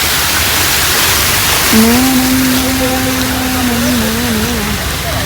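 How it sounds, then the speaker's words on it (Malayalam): A small waterfall at a roadside stop on a scooter trip from Palakkad to Mysore sounds as a steady, broad rush of falling water that fills the whole clip, with a short hummed or sung tone passing over it midway. "അയ്യോ ഒരു കുഞ്ഞു വെള്ളച്ചാട്ടം കേട്ടോ"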